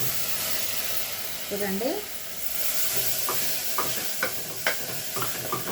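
Tomatoes tipped into a hot pan of cabbage and moong dal curry base, sizzling steadily while a spoon scrapes and stirs in short clattering strokes; a voice speaks briefly over it.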